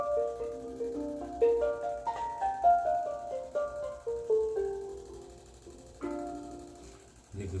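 A steel pan rings out a run of bright, clear notes climbing and falling through a full chromatic scale, each strike fading quickly, played close and alone.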